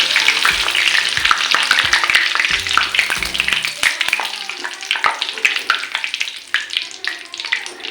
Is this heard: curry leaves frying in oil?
yes